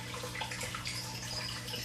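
Running water in a Chinese water dragon enclosure, a steady soft trickle and splash at low level with no voices.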